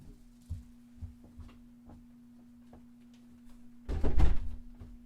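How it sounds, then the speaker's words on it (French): A door is pushed shut indoors, giving a single solid thunk near the end after a few faint scattered knocks, over a steady low electrical hum. "J'ai fermé la porte, puis on va discuter."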